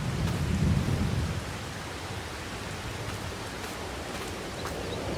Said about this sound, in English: I guess I could do that while I'm waiting for the rain to stop.